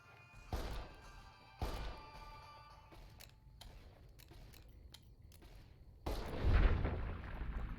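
Two heavy gunshots ring out in Fallout New Vegas during a hike toward Jacobstown against bighorners, each a loud booming crack with a decaying tail, followed by a quieter stretch of small clicks and a final louder blast.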